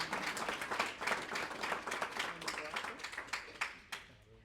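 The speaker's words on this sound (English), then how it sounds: "If I could please have a round of applause for our panel speakers tonight." Steady applause for panel speakers at a community information night, many hands clapping at a moderate distance, fading slightly toward the end.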